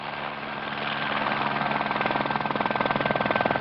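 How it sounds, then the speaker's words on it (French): A helicopter passes low over a desert rally car during the 1982 Paris–Algiers–Dakar rally raid, its rotor chop loud and close and building into a strong steady pulse, with a constant engine drone beneath. "C'est l'hélico"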